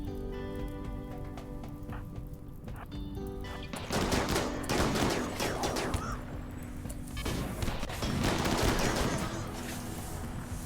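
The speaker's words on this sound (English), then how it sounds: "We're gonna use some turrets here." Turrets fire in rapid bursts in the video game RimWorld, dense rattling volleys that grow louder partway through, layered over game music.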